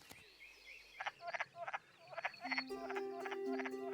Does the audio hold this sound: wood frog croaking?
yes